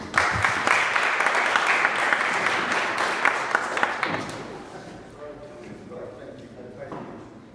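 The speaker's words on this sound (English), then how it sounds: "Round of applause." Applause from a meeting crowd at a caucus of African American leaders, dense and loud for about four seconds before thinning into scattered claps, with murmured voices under it.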